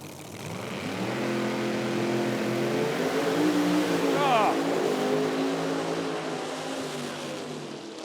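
Top Sportsman drag racing cars launch in a final at the IHRA event in Milan, Michigan, a steady, loud engine roar with rising harmonic pitch sweeps as they accelerate, a commentator talking over it.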